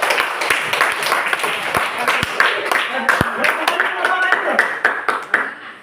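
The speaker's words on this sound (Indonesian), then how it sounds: "Tepuk tangan." A classroom full of students claps together for about six seconds, a dense, steady patter of hand claps close by with voices talking over it.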